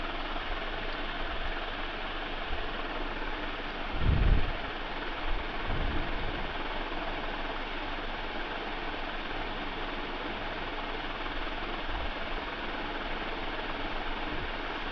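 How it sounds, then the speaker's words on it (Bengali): Mutton being stirred with spices in a pan over high heat, a steady low scraping and sizzling texture running throughout with a brief louder clatter partway through; no voices. "মাংসটা দিয়ে মশলার সঙ্গে বেশ নেড়ে চেড়ে ভালোভাবে মিশিয়ে নিতে হবে"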